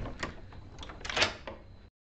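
A loud wooden door in the old haunted mansion of the TV drama The Haunting of Hill House bangs and rattles in a rapid burst of knocks and thuds for about two seconds, close and alone, then cuts to silence.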